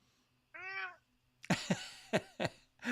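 A single clear, close cat meow rises and falls alone, followed by a burst of other sounds.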